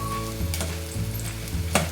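Onion sizzling and frying in hot oil, a steady crackling hiss with a few brief stirring scrapes, close and fairly loud.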